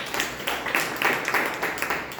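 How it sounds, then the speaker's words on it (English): Applause at a Toastmasters club meeting, a small audience clapping steadily in quick uneven bursts, moderately close, continuing through the whole moment without talk. "Please give her a big round of applause."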